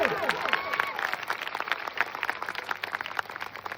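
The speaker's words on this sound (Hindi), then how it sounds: "अगर इस बात से सपोर्ट करते हैं तो जोरदार ताली से स्वागत कीजिए" Crowd applause at a public talk about helmet safety in India, a dense patter of clapping from many hands that starts strong and holds steady, with no one talking.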